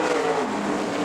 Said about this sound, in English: The RPMs come up. The horsepower comes out the exhaust pipe.